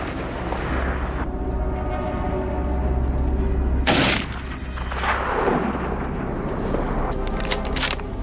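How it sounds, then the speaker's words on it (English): Heavy gunshots crack out across hills, one sharp blast followed by a rolling echo and a few more bursts near the end over a low, rumbling background, during a wild boar hunt. "Gunfire echoed through the hills,"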